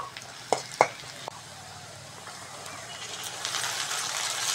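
Onion, tomato and green chili frying for egg curry, a soft low sizzle with a few utensil knocks early on, and the frying grows brighter and louder toward the end.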